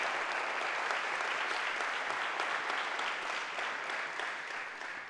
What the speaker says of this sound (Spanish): Denle un fuerte aplauso, sí, un fuerte aplauso a Jesús por esta palabra.